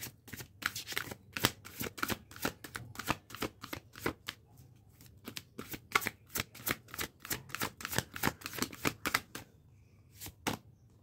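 A deck of cards is shuffled repeatedly in a quiet setting, giving steady bursts of crisp riffling and snapping with brief pauses between them and no talking.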